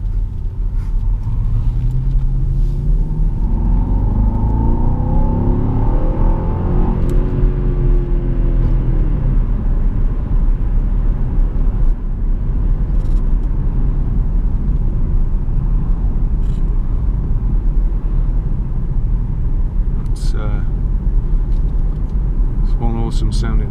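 A Jaguar XF 5.0 V8 S on the move, its engine a loud, close, rumbling drone that climbs in pitch as it accelerates, with steady road and cabin noise and no voices.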